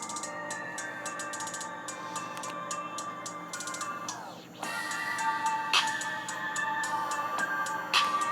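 A song plays through the loudspeaker of a Poco F1 phone running Arrow OS 11, with steady tonal music, repeated percussive hits and a brief dip midway, fairly quiet and with no talking.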